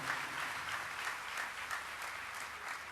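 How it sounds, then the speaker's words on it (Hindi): Audience applause at a Panchkula gathering, steady crowd clapping with a rhythmic pulse, faint and distant, with no talk over it. "अबे भाई के लिए एक बार जोर से तालियां हो जाएं।"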